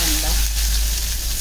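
Onion fries in a pan with a loud, dense sizzle and crackle that stays steady and close throughout the short stretch.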